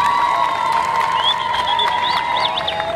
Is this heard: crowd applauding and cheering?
yes